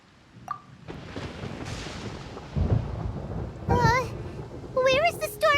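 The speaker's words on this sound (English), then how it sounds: "Paimon hears thunder!" Thunder rumbles through a rainy storm in the Genshin Impact video game, a long rolling boom under steady rain while character voices speak over it.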